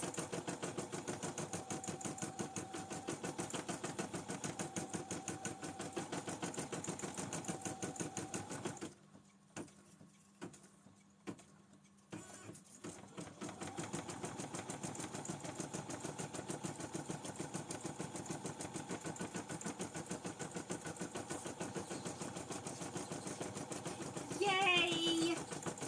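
Embroidery machine running with a steady, rapid mechanical stitching chatter, stopping briefly for a few quieter seconds with isolated clicks, then resuming at the same even pace.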